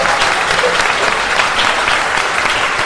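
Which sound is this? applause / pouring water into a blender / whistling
applause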